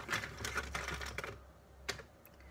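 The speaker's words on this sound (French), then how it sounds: "Je vais piocher quelques petits rondins pour un complément." Small wooden discs drawn by hand for a divination reading, giving a few quick clustered clicks and rattles, then one more sharp knock after a pause, fairly quiet and close, with no talking.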